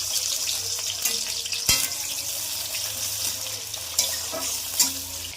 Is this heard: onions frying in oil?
yes